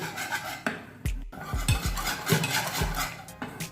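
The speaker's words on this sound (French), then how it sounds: "Je vais mélanger au fouet et le battre pour ne plus avoir des morceaux de gombo, mais une sauce bien homogène" A whisk beating thick okra mafe sauce in a metal pot, repeated clanking knocks and scraping strokes against the pot sides in an uneven rhythm, close and fairly loud, with no talking.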